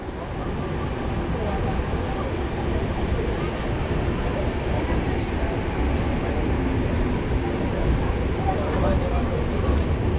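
The Kanchankanya Express departing Dakshineswar station, a steady low rumble and rattle of the moving train heard from on board, continuous and fairly loud throughout.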